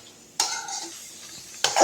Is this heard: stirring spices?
yes